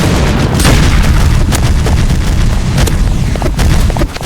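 Banana bombs burst in the Roblox shooter Hyper Shot, a cluster of five or six bananas exploding in a dense, loud run of booms and blasts that fills the whole stretch without pause.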